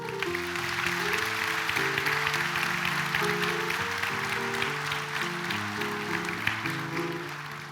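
Audience clapping at a 2023 graduation ceremony of a higher vocational school in Novo mesto, steady and continuous throughout, with sustained instrumental music underneath.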